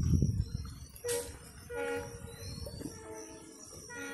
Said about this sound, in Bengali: ওই যে ট্রেন যাইতেছে